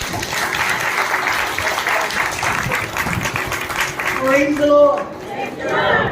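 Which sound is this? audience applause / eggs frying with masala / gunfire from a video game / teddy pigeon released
audience applause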